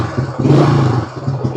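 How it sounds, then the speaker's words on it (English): Engine of a pristine original 1974 Honda XL175 motorcycle running close by, a loud, low, even idle with faint mechanical clatter. "Engine's nice and smooth."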